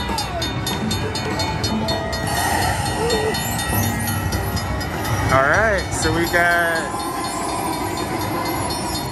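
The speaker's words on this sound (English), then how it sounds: "Yay! We got a train. We got a train." Cash Express slot machine train bonus effect in a Las Vegas casino: a train-like rumble with whistle tones and chimes rises over steady casino noise while people talk.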